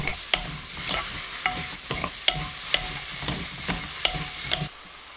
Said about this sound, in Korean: 마지막으로 맛소금 한 꼬집 넣어 1분 더 볶아요